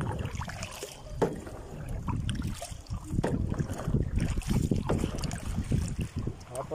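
A small boat out on the sea on a hot day, its hull knocking and water sloshing under heavy wind buffeting the microphone, with a few faint voices in the background.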